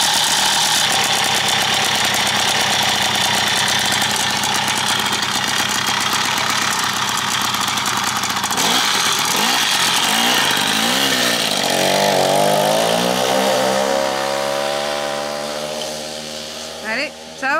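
A French moped engine, its worn drive belt just replaced, runs loud and close after starting, a buzzing two-stroke drone that revs up and down in the middle and eases off toward the end.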